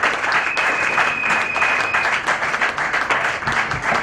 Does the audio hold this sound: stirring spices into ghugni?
no